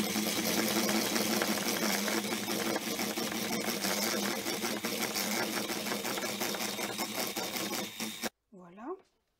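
Egg yolks, sugar and amaretto being mixed together for tiramisu: a dense, steady whirring and rattling that runs loud and unbroken for about eight seconds, then stops abruptly before a short burst of voice.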